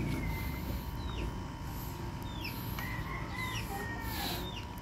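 A naked neck chicken gives soft, repeated clucks over a farmyard background, with short chirps and calls at a moderate distance and no talking.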